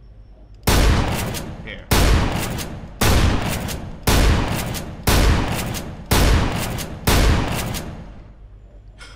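Shotgun fire in the Minecraft video game: seven loud, booming blasts spaced evenly about a second apart, each decaying quickly, with a brief spoken word near the end.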